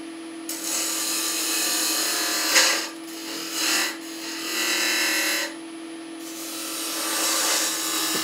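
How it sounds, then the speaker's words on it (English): A spindle gouge cuts milk pear wood spinning on a lathe, giving a steady rasping scrape over the motor's constant hum, with the cutting noise swelling and fading in several passes. "I've got my spindle gouge here"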